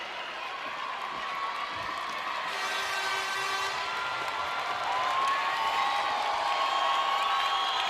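A large crowd at a school basketball championship final cheers and applauds continuously, a loud sustained roar with whoops and shouts that swells slightly toward the end.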